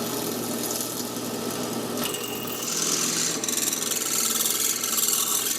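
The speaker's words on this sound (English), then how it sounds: "going to drill this time an 1/8 inch pilot hole, and then enlarge that to the 17/64" Drill boring an eighth-inch pilot hole in a tube bass preamp chassis, then enlarging it to 17/64 inch; a steady grinding, scraping whine with a shift midway, fairly quiet and close, no talk.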